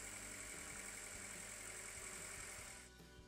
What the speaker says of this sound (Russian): Прогреваем мотор.